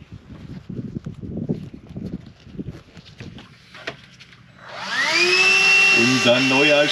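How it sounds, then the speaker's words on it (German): A new vacuum cleaner starts up after people talk and move about, then whines loudly and steadily at close range with a high, shifting motor tone for the last couple of seconds. "Unser neuer Staubsauger, er funktioniert und wird auch gleich eingesetzt."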